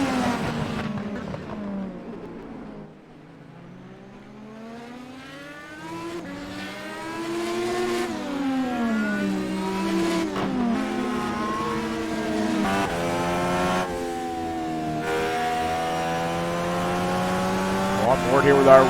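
Indy cars in a racing game at Laguna Seca race past with engines that rev up and down and sweep in pitch as they pass, closing on a loud rise. A commentator talks over the racing noise.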